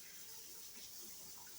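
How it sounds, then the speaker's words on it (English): Blueberries get a light rinse under running tap water, a faint, steady hiss of flowing water into a sink with no pauses. "I'm just giving them a light rinse."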